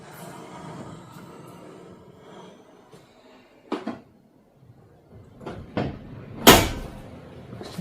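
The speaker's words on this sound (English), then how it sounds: "we'll see if it shuts the hood and doesn't break anything" The hood of a Honda Del Sol fitted with new struts swings down and shuts, with a few light knocks and then one sharp, loud slam near the end, close by in a quiet space.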